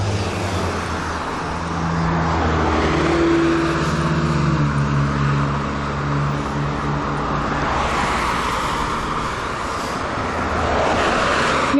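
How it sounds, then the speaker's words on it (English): A car approaches along a road with a rising engine and tire roar, heard loudly from the roadside against steady wind and traffic noise. "Car's coming."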